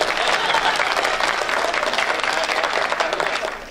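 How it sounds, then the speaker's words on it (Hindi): An audience at a Hindi comic poetry show claps loudly and steadily for a few seconds, dense and continuous, then begins to fade at the end. "ताली बजाइए, एनर्जी मिलती है।"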